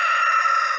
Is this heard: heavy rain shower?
no